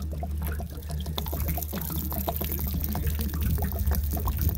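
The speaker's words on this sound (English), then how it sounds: "Wonder if it's going to have any pink antifreeze come out." Liquid drains steadily from RV plumbing during winterizing, a continuous splashing pour with small trickling detail, fairly close and without talk.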